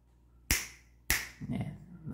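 Two sharp, close hand claps about half a second apart ring out in a quiet room, meant to switch on lamps, followed by faint shuffling.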